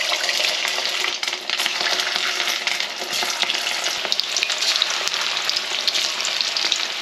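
Cornflour-coated marinated chicken pieces fry in oil over a medium flame, a loud, dense, continuous crackling sizzle with constant tiny pops and no voices.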